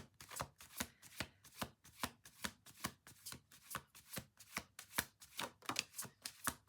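A deck of cards riffled and bridged repeatedly in a quick, even rhythm, close and fairly quiet, with no talking.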